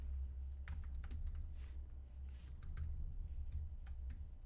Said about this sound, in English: And still we fail at typing.